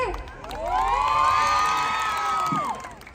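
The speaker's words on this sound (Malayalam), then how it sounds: "സോ ഒരിക്കൽ കൂടി ഒരു നല്ല കൈയടി കൊടുത്തേ." A college audience at Bharath Matha college cheers loudly, with rising whoops and whistled shouts swelling and fading over a few seconds.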